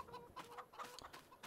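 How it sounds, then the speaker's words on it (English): Chickens and roosters cluck in Farming Simulator 22, a flock of hens with two roosters on a farm; faint, scattered clucks and short calls come in a quick irregular rhythm over a low background. "we've got some chickens, two roosters"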